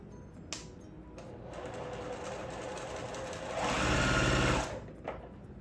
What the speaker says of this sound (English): I'm going to sew all of these on each of these corners